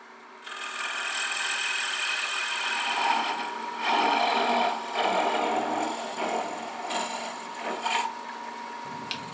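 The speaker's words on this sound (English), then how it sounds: "then we're going to part it off with a parting tool" Wood lathe spinning a tool handle while a parting tool cuts it off, a steady loud whirring and scraping roar that surges and dips over the whole stretch.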